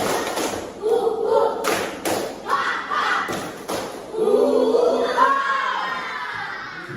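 A class of schoolchildren chants and claps in unison during a spirit clap, with bursts of sharp claps and table thumps and excited young voices calling out.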